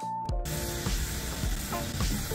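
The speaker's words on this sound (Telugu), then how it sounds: "ఇప్పుడు వేగేదాకా వేయించుకోవాలి." Garlic, cumin seeds and asafoetida tempering frying in a pan for gongura chana dal, giving a steady close sizzle with a few soft stirring scrapes throughout.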